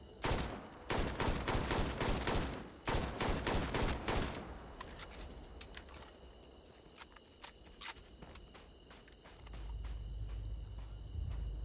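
Gunfire in the video game Starfield: loud rapid bursts of shots for the first four seconds, then sparser single shots over a quieter hissing background, with a low rumble rising near the end.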